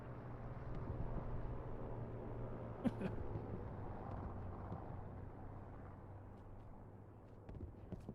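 Low rumbling roar of aircraft strafing an HQ in a multiplayer war video game, with a steady engine drone, a sharp crack near the start, and scattered faint impacts throughout, no talk.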